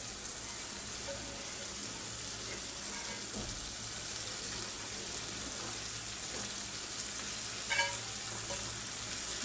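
Eggs added to fried spice paste in a pan for a Bengali egg bhuna, a steady close hiss of sizzling oil throughout with a few faint clinks, no other sound on top.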